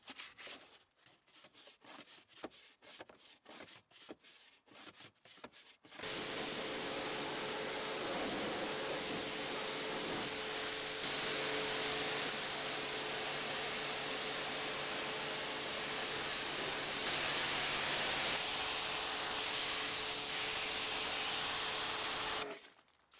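Green Star all-purpose cleaner at about 10% dilution sprayed onto the wheel arches of a grubby Renault Scenic, heard as a steady, loud continuous hiss running for most of the clip after a stretch of short intermittent bursts.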